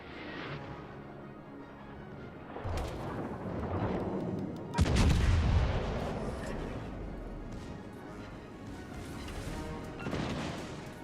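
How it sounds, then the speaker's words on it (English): Warship main guns in World of Warships: Legends fire in a few heavy booms, the loudest blast landing near the middle with a long rolling rumble after it, over a steady engine-like drone. "I better shoot at him with the main guns."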